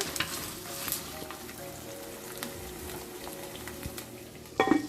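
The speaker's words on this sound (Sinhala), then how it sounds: "මම මේ තෙලින් තැම්බේ තියලා ටිකක් කලවම් කරගමු." Dried bombili fish frying in oil crackles steadily up close while a spoon stirs it, with a sharper burst of scraping and spattering at the end.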